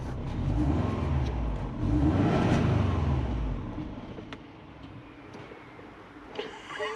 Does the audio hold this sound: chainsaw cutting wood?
no